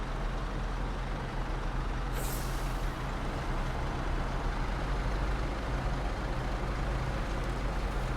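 A truck in Snowrunner idles with a low steady engine rumble, broken early by a single sharp hiss of the air brake releasing, then the engine drones on alone.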